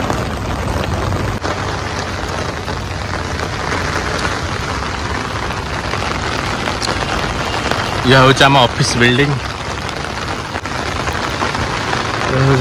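Heavy rain in Bangalore pours steadily near an office building, a dense continuous hiss with someone talking briefly over it partway through.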